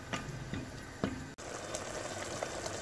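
Tomato paste, grated tomatoes and chopped green peppers sizzle and bubble in a pan, a soft continuous crackle with a few sharp clicks of a utensil.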